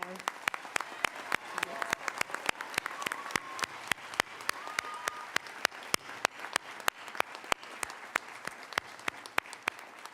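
Audience applause fills a high school underclassmen awards ceremony, a steady dense patter of clapping with sharp individual claps standing out, sustained for the whole stretch with faint voices mixed in.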